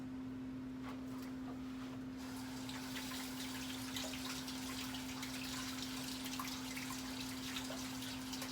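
An onion is rinsed under a running kitchen tap, a soft continuous splash and trickle of water with a steady low hum beneath.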